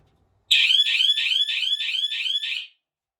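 Piercing, loud alarm wired to a float switch inside a home-built diesel submarine, pulsing in a steady run of about seven rapid beeping bursts before cutting off abruptly.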